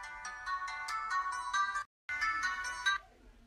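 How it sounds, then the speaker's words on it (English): Ringtone from a phone plays a bright electronic melody in quick repeated notes, pauses briefly, then resumes before cutting off; loud and near with no talking over it. "Freaking phone again."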